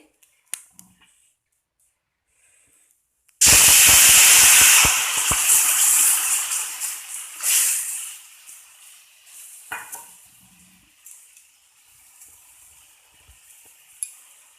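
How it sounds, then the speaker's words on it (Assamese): Lukewarm water hits a hot frying pan of fried food and bursts into a loud, close sizzling hiss that fades gradually over several seconds, with a few faint clinks near the end. "এতিয়া দিম অলপমান কুহুমীয়া গৰম পানী"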